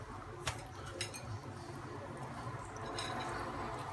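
Raw langoustines drop into a paella pan, giving a few light clinks and wet taps at scattered moments over a low, steady background hiss.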